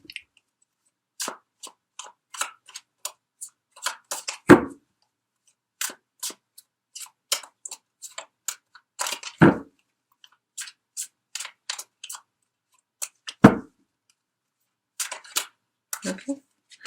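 Tarot cards handled and drawn at close range, giving sparse, crisp snaps and flicks in short irregular clusters with quiet gaps between them.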